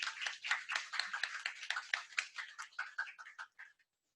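Applause from a church congregation during a Friday worship service, a steady patter of hand claps that gradually thins out and fades to silence.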